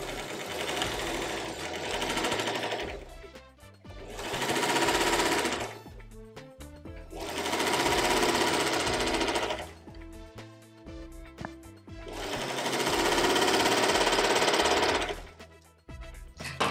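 A sewing machine stitches together three batting-lined fabric strips for a snowman-style hat, running in three long loud bursts of rapid mechanical clatter separated by brief pauses, with no talking.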